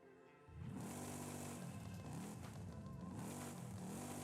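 Mercury Cyclone exhaust in Forza Horizon 5: after a brief quiet start, a loud, steady engine note with rising and falling revs holds close and continuous, with no talk.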